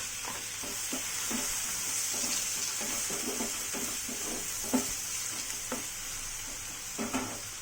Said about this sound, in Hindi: प्याज को हम गोल्डन ब्राउन होने तक अच्छे से भूनेंगे।